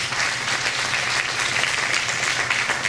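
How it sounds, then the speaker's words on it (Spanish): Audience applause for the presenters at a parliamentary forum, a dense steady wash of many hands clapping at even loudness throughout, with no pauses. "pido un aplauso nuevamente para todos ellos"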